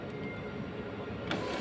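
An Epson 3210 inkjet printer runs with a steady mechanical whir, close and fairly quiet, and a brief click near the end.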